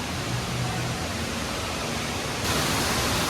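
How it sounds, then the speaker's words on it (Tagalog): Steady rushing water from an indoor waterfall inside the Mohegan Sun casino, a broad continuous wash of noise that holds even throughout and swells slightly louder near the end, with no talk over it. "May falls dito sa loob ng casino."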